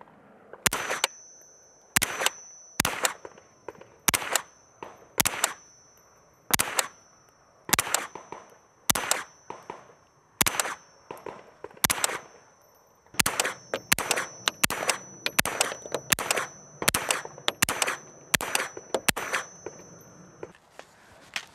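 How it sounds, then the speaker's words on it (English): A Sig Sauer MPX carbine fires dozens of sharp shots outdoors on a range, first as spaced single rounds, then faster strings of quick successive shots, each crack loud and near. "So let's go ahead and shoot some rounds through it and see how it performs."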